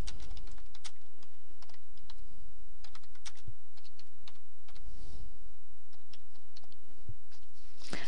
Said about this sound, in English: I'm going to go ahead and type a couple things in here.